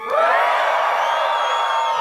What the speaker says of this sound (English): Scream loud if you want to be in the top 10 of your company.